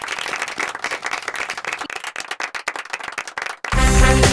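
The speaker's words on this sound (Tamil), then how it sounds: "செங்காந்தளானிக்கு ஒரு பலத கைத்தட்டல கொடுத்துடலாம்" A studio audience bursts into loud, dense applause for a quiz show contestant who scored five out of five, starting abruptly near the end after a stretch of busy background sound.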